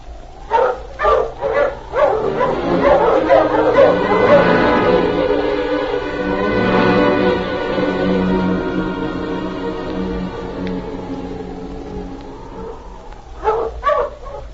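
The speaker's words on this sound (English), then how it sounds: "Mush, you huskies! Mush!" A pack of sled huskies in a radio drama barks and yips at the start, breaks into a long, drawn-out group howl, then barks again near the end. The sound is close and loud.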